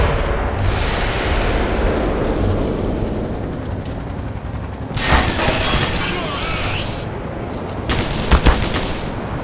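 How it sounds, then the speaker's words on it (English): Gunfire in the video game Black Mesa, loud sustained shooting and bursts with an engine-like roar beneath, ending in sharp volleys of rapid shots. "What the hell is shooting at me, by the way?"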